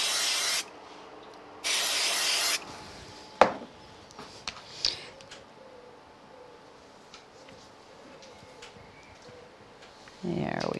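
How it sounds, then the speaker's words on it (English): Spray glue hisses out in two short, loud bursts onto a sheet of card, followed by quiet tapping and paper handling, with a final brief spray at the end. "So we'll use some spray glue"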